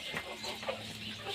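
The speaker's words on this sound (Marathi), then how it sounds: "आता कशा खायल्यात बघा कोंबड्या आपल्या गवत" Several farm hens cluck softly and continuously while eating freshly gathered thorny grass, close and fairly quiet with no voices over them.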